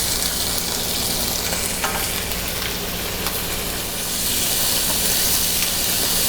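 Sliced bell peppers sizzle loudly and steadily in a hot pan alongside Italian sausage and onions, a dense continuous hiss with faint stirring rustles partway through.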